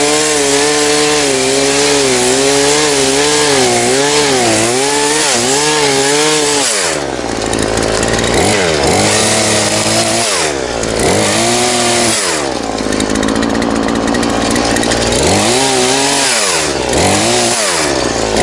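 Chainsaw cutting through a fallen tree blocking a river, engine revving and bogging in loud rising and falling surges as the bar works through the wood, continuous and close for the whole stretch.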